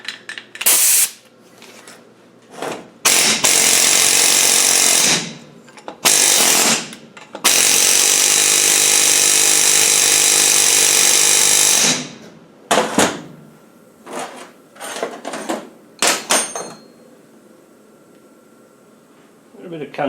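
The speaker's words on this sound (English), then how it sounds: "Let's use the air chisel. See if we can beat it out." An air chisel hammers at a stuck turbo cartridge in bursts of loud, rapid pneumatic rattling, several long runs broken by short pauses, with someone speaking between bursts.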